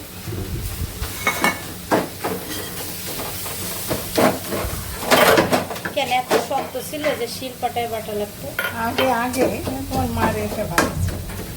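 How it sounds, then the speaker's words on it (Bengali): Food frying in oil crackles and sizzles close by while it is stirred, with clattering utensil scrapes against the pot and someone talking over the cooking throughout. "এই যে তেলে দেওয়া হয়েছে এখন ঘন্ট করে নিবে"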